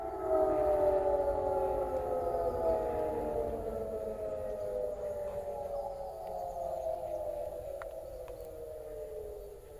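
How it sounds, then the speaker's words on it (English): Distant civil defense sirens in Feldkirch, Austria wail in long, slowly falling tones, several overlapping, eerie and steady with no voices. "all the sirens just started going off"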